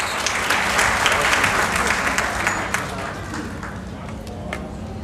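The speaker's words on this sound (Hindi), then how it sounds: "मैं चाहता हूं जोरदार ताली के साथ उनका स्वागत किया जाए।" A crowd at a joint rally of social organisations gives a guest loud, dense applause that stays strong and then gradually thins out, with voices mixed in.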